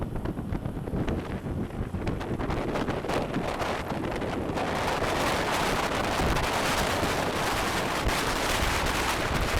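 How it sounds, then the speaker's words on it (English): Strong wind roars across the east side of an island, buffeting the microphone in loud, continuous gusts that swell and thicken midway and stay heavy to the end, with no one speaking. "I made it to the east side of the island and it is crazy windy over here"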